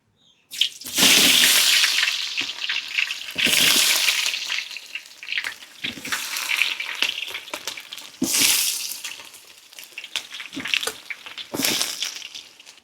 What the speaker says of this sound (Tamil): வெங்காயம் பொரிஞ்சு கொண்டு இருக்குது